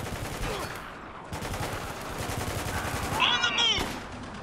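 Pistol shots crack through a Spec Ops: The Line firefight, several close reports spaced across the moment over background game sounds and chatter.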